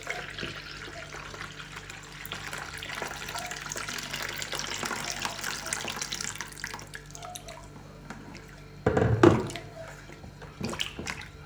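One litre of warm water pours steadily into a bowl of dough mixture for several seconds, a soft continuous splashing, followed by a brief louder clunk and a few quiet drips.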